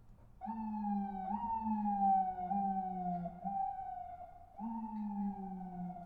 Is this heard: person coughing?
no